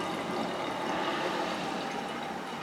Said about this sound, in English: I'm putting water in there, and then I can just see down here, and it takes quite a bit of water actually